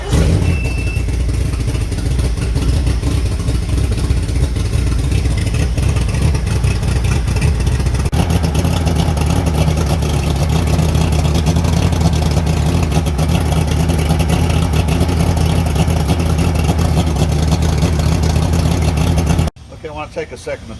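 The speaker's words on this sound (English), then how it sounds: "we're just gonna get the motor started here" Champion bass boat outboard motor with a loose key switch, running loud and close with a steady rumbling drone that shifts in pitch partway through, then cuts off near the end.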